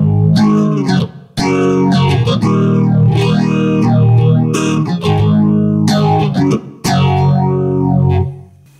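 An electric guitar played through a Zoom 4040 multi-effects unit on a phaser preset rings out loud and close in sustained distorted chords, with a sweeping phase swirl rising and falling across each note.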